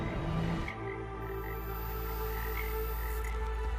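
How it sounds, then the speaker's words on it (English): A tree frog in the Chernobyl exclusion zone croaks faintly over a low, steady background drone, with sparse calls and no speech. "This is a tree frog."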